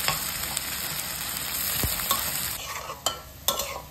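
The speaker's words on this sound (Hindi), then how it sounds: "अभी फुल फ्लेम पे फ्राई करूंगी जब तक एकदम गोल्डन कलर का ना हो जाए ऑनियन का।" Chopped onions sizzle hard in hot oil over full flame, with a spoon scraping and stirring through them every second or so, close and steady.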